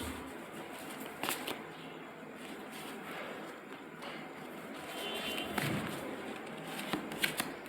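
Tarot cards being shuffled by hand, a quiet, close riffling and flicking with scattered soft snaps and taps, continuing steadily at low level throughout without any talking.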